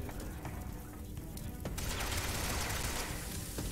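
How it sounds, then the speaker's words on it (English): Pistol shots in the video game 007 Legends: a few sharp, thin cracks stand out against a dense, hissing background noise that grows louder partway through. "this pistol sound effect is fucking garbage"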